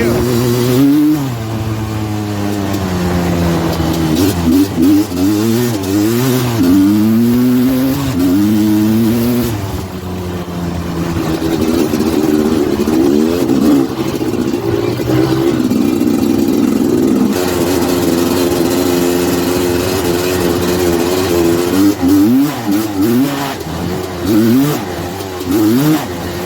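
A Suzuki LT250R two-stroke ATV engine revs hard at high RPM during a ride, its pitch repeatedly climbing and falling with shifts, loud and close with steady wind noise throughout.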